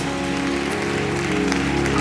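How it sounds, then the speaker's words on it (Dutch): A church congregation at a live worship service breaks into sustained applause, a dense, even wash of clapping that fills the room, with faint musical tones held underneath. "laten we de Heer een applaus geven"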